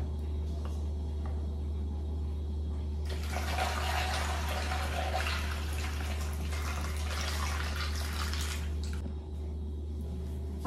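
Tap water running into a basin or bowl to soak fruit such as apples, a steady splashing rush starting after a few seconds and continuing strongly before easing near the end, over a constant low hum.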